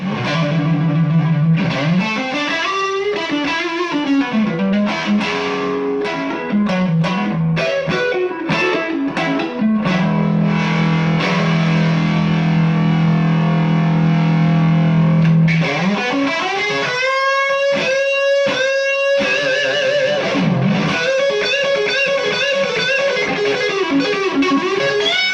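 Crunchy overdriven electric guitar plays riffs and sustained chords, loud and saturated, with bent notes and choppy strummed passages, no speech.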